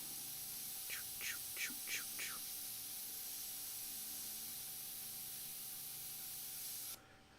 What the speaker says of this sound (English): I just got some new parts for my airbrush, so it's spraying really like smoothly today